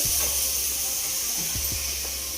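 Garlic paste, two spoons of it, sizzling in hot oil while chicken curry is being cooked: a steady, hissing fry that holds evenly throughout, with faint low clatter underneath.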